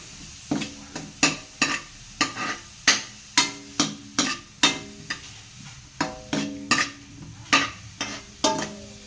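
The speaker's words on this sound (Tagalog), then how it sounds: "gisa na natin yung bawang at saka sibuyas" Garlic and onion sautéing in a pan for pork giniling, repeated rhythmic scrapes and taps of a spatula against the pan over a soft sizzle, close and regular.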